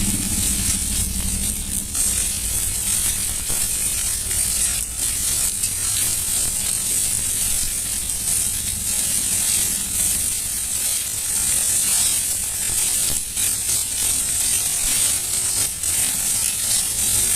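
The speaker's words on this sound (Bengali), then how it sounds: "খুব ভালো করে আমি মাছটাকে ভেজে নিচ্ছি।" Dried fish frying in a pan for a snake gourd (chichinga) dish, a steady dense crackling sizzle that continues loud and unbroken throughout with no voices.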